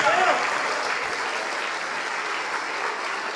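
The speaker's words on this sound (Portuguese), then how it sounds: "vamos aplaudir mais ao nome de Jesus" A church congregation applauds in worship, its continuous dense clapping filling the hall steadily after a short vocal exclamation at the start.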